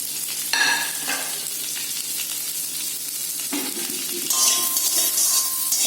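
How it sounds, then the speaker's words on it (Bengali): Cashews, almonds and pistachios fry on a low flame, giving a continuous sizzle with a few clinks and scrapes of a spoon stirring the nuts in the pan. "লো ফ্লেমে এটাকে একটু ভেজে নেব"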